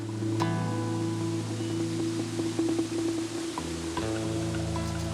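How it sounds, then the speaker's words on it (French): Steady rushing water from cascading falls in the Lot valley, France, fills the scene, a continuous broadband wash with a low droning hum running beneath it. "c'est le bruit de l'eau"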